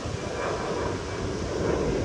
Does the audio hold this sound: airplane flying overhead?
yes